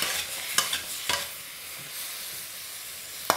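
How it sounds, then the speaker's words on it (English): Stir fry sizzling in a pan as sesame oil is drizzled in, a soft steady frying hiss with a few sharp clatters of stirring spaced through the clip. "Just a drizzle of sesame oil. Hear that sizzle."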